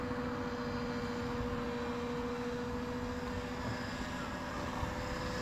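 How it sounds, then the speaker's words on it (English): Trex 600N nitro RC helicopter flying in reverse, a steady buzzing engine and rotor drone with a constant tonal whine, heard at a moderate distance throughout. "He's got reverse on that helicopter."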